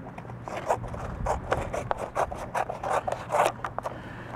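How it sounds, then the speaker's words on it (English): Scissors cutting through a sticky tree band used against spotted lanternfly, a series of short, quiet scraping snips heard up close with no talk. "I'll cut the band."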